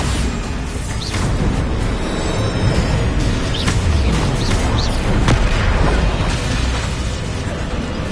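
Spell blasts from the Bombarda explosion in Hogwarts Legacy, a series of sharp bursts and booms over a dense, continuous battle din, loud and close throughout.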